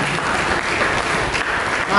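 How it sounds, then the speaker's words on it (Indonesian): A church congregation claps together in steady, dense applause that fills the room at an even, strong level throughout. "Berikan tepuk tangan bagi Tuhan."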